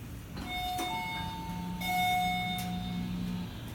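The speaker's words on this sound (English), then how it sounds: "what is up with two chimes on the first floor? With different pitches." An Abell/Hadfield machine-room-less traction elevator chimes on arrival at an apartment floor, two electronic tones at different pitches sounding in turn, each followed by a repeat, fairly faint over a low hum.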